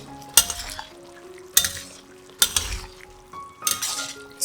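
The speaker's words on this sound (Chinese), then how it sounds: "再放入豆包，继续的炒均匀" Tofu skin stir-fried with chili in a pan, with four distinct bursts of scraping and clinking from a spatula against the pan over a low background sizzle, close and moderately loud.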